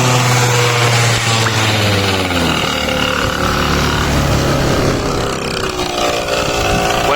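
A small two-stroke Yamaha Jog RR scooter engine with a Polini crankcase revs loudly up close, its pitch rising and falling as the throttle opens, continuous with no talking.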